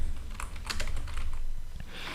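Keys clatter on a computer keyboard in brief quiet bursts of typing at close range, entering Python code, with no voices.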